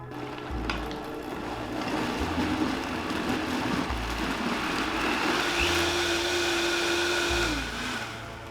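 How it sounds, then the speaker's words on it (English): A kitchen blender whirs steadily while blending green soup, a sustained motor drone with a rising whine that holds and then cuts off near the end. "then we'll blend it up"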